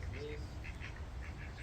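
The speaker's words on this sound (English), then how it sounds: "Also ducks." Ducks quacking at a holiday stay in Australia, a few soft quacks in short groups over a steady low background hum.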